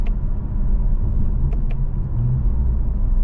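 Interior road noise of a 2023 Toyota Camry TRD driving down the road: a steady low rumble of engine and tyres, continuous and fairly loud, with two brief faint clicks partway through and no talking.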